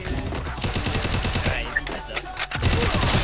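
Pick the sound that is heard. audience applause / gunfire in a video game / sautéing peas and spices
gunfire in a video game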